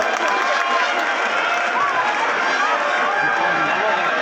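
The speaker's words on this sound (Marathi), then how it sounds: "हजारो मराठा बांधव टाळ्यांचा जोरदार गजर करूयात" A dense, loud roar of clapping and cheering rises from thousands of people at a Maratha reservation rally at the historic Gandhi Maidan in Satara, filling the whole stretch evenly.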